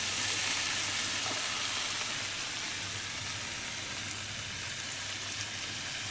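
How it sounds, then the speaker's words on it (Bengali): Spices with cumin powder sauté in a pan, making a soft, continuous sizzle and hiss that fades slightly after the first couple of seconds, with no talking. "জিরের গুঁড়ো দিই, মশলা দিয়ে একটু ভালো করে কষাই"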